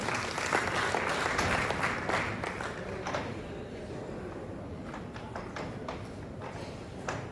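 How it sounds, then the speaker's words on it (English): Audience applause fills the hall at a leather and fashion industry forum in East Africa, a dense steady clapping that is loudest at the start and slowly thins and fades out over several seconds. "Kindly clap for him."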